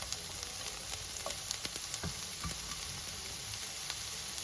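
Leeks fry in a pan for cheese kottu, giving a steady close sizzle with faint scattered pops and stirring scrapes throughout.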